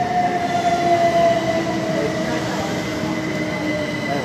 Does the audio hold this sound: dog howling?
no